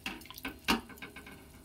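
Water is poured into a pan of cooking fish, a few quiet splashes and gurgles in a short, faint burst with one louder splash in the middle.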